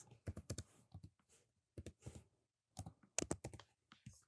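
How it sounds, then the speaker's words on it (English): Quiet clusters of crisp keystrokes on a computer keyboard, typed in short bursts with brief pauses between groups, close and with no talking. "Now I'm ready to type in my box."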